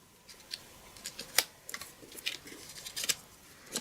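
Scissors snipping through tape in a quiet room, a series of short crisp clicks and cuts spaced irregularly, close and fairly faint.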